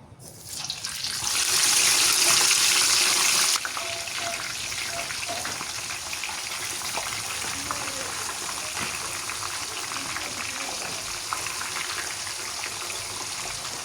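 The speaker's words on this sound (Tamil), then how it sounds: "இப்போ நல்லா 2 பக்கமும் பெரட்டி நல்லா பொரிய வச்சு எடுத்துக்கொள்வோம்" Masala-coated chicken pieces frying in hot oil in a pan, a steady close sizzle and crackle that flares loudest at first, then settles into a continuous bubbling hiss.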